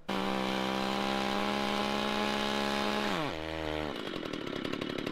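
A chainsaw engine roars steadily at full throttle, then the pitch drops sharply as it bogs down and sputters unevenly to the end.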